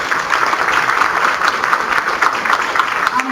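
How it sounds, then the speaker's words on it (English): Steady applause from an audience at an HR liaisons network fall meeting, dense and continuous, fairly loud throughout, with no speech over it. "So please give them a big round of applause"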